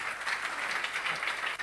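Audience applause following a talk on building and maximising positive relationships, a steady, dense wash of many hands clapping at moderate loudness throughout, with no voices over it.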